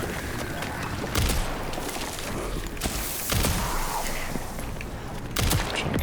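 Gunfire in a Resident Evil game, a few sharp, loud shots spaced out over a steady background of ambient noise and rumble.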